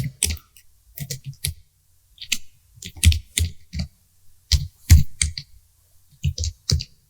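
Bursts of rapid clicking keystrokes on a computer keyboard as a company name is entered in Tally Prime accounting software, close and crisp, in short irregular runs separated by brief pauses, with no talking.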